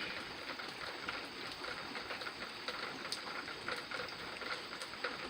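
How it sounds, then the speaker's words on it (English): Steady rain falling outside, heard from a porch, a soft, even hiss with faint scattered patters throughout and no talking. "I guess it'll be raining all night tonight."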